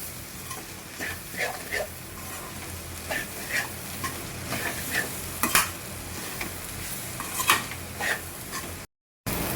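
Chili powder, salt and turmeric frying in a pan for a village-style egg and onion dish, with a constant sizzle under repeated scraping stirs of a spoon across the pan, alone and close.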